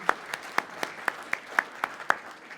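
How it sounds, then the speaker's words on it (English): Sparse, evenly spaced claps ring out at an awards ceremony, about nine sharp hand claps in a steady rhythm, fairly faint and distant, from a small number of people. "Give them a big round of applause."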